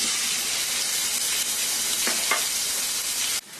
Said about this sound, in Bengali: অলিভ অয়েলটা গরম হয়ে গেছে এখন আমি চিকেন ব্রেস্টটা দিয়ে দিব